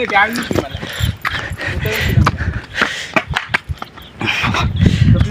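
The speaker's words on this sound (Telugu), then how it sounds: "కుక్క" A dog yelps and whimpers close by, overlapping with people talking excitedly.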